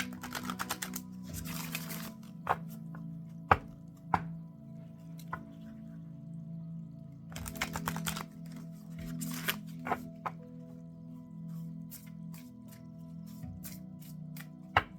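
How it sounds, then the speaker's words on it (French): Oracle cards being shuffled by hand, a run of soft papery riffles and sharp clicks in uneven bursts over a steady low hum, close and fairly quiet, with no talking. "Je vais brasser un petit peu plus longtemps"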